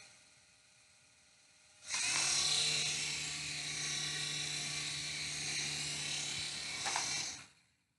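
A toy RC helicopter spins up into a steady, high-pitched whirring rotor and motor whine that holds close and loud for about five seconds, then winds down and cuts off.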